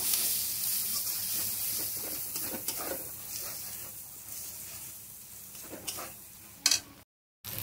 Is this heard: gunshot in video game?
no